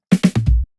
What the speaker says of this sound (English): you can add in more subtle drum fills such as this loop here